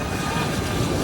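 Jet aircraft flying a demonstration at the EAA AirVenture Oshkosh 2025 airshow, a steady, dense broadband engine roar that holds evenly loud throughout with no pauses.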